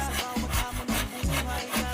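A hand saw cuts through wood in steady back-and-forth strokes, about four rasping passes, close and fairly loud with no voices.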